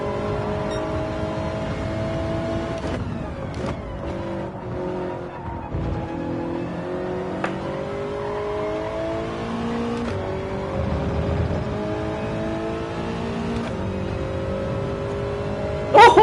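Toyota 86 in a racing video game, its engine droning steadily and rising through the revs across several gear changes, with brief tire squeals over the continuous motor tone.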